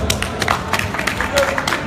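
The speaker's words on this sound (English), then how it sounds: "Can we get him a round of applause, please, for this?" At a car-culture talk event, an audience gives a round of applause, a steady wash of hand clapping with distinct sharper claps poking through, near and moderately loud.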